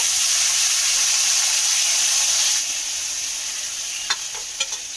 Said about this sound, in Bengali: দিয়ে যে মশলাটা আমি এখানে ফেটে রেখেছিলাম এই মশলাটাকে আমি তেলের মধ্যে দিয়ে দেব